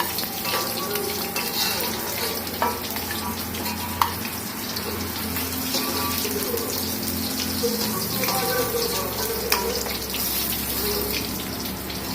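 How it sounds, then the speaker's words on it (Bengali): Rohu fish pieces fry in hot oil with a steady, close crackling sizzle, a few sharper pops and spatters breaking through a watery hiss. "এই মাছগুলোকে সুন্দর করে ভেজে নেওয়া শেষ, আমি এখন এগুলোকে এক এক করে তুলে নিব"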